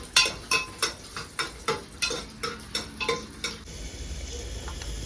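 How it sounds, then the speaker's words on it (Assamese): Onions and a dried chili frying in oil, a steady sizzle under a run of evenly spaced scraping stirs that stop near the end, leaving the hot oil crackling alone. "তেলখিনি অকণমান শুকান জলকীয়া এটা পিঁয়াজকেইটা দি লৈছোঁ"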